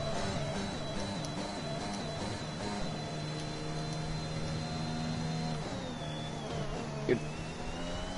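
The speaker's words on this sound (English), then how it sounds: "God, the Honda engine." Honda power unit of a Formula 1 car in F1 2021 running with a broken gearbox, a steady loud harmonic engine whine that holds pitch, then drops and shifts near the end with a brief sharp spike, with faint talk underneath.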